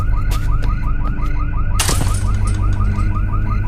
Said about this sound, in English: Then my alarm went off upstairs.